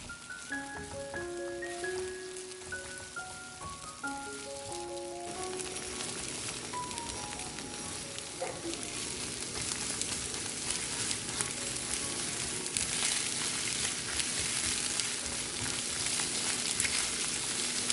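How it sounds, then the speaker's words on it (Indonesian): Sliced meatballs and eggs scrambling together in a pan, a soft continuous sizzle that grows louder over time, with music in the background early on. "Kita masukkan irisan bakso, sekalian juga kita masukkan telurnya. Aduk pelan-pelan sampai jadi telur orak-arik."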